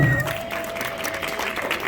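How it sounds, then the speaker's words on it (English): Audience at a Nigerian community Christmas party in Minnesota applauds a quiz contestant, a steady, moderately loud patter of clapping from a room full of people with a brief voice at the start. "A round of applause for her."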